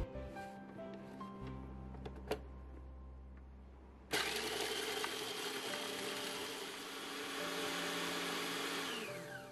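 A food processor grinds 150 grams of Marie biscuits; after some quieter handling noise, the motor kicks in suddenly and runs as a loud, steady whirring roar.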